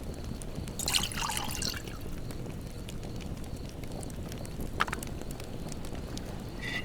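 In the survival game The Last Plague: Blight, water is emptied out as a soft, steady trickle and pour. A brief splashy burst comes near the start, then a faint drip, all low under quiet ambient noise.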